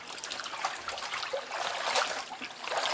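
Sourdough starter is worked and dissolved in water by hand, producing soft continuous sloshing and trickling splashes, close and fairly quiet, with slight surges in intensity.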